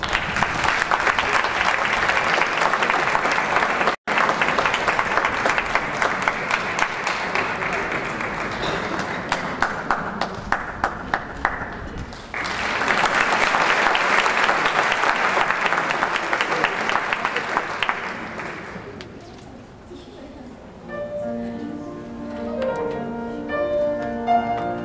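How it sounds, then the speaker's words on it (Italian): Audience applause at an international opera singing competition, loud, dense clapping sustained for about twenty seconds with a brief dip midway, then fading as piano and voice begin. "Un applauso."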